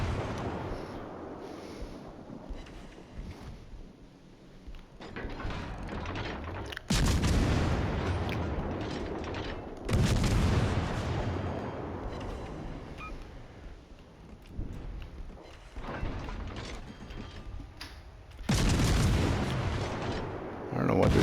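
Naval guns in the game World of Warships fire at a destroyer, heavy booming salvos arriving at intervals of several seconds over a low rumbling battle backdrop, with someone talking at times.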